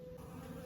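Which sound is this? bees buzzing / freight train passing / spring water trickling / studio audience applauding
bees buzzing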